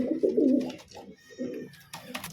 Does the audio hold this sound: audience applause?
no